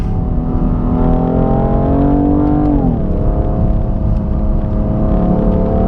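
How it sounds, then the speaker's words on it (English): Sports car with a double-clutch transmission, a 2017 BMW M3 Competition Package or Mercedes C63 AMG S Coupe, accelerating hard with a loud steady engine drone, then one quick gearshift drops the pitch before it climbs again, no talking. "Oh, those shifts are addicting. This car is so awesome with the double clutch transmission."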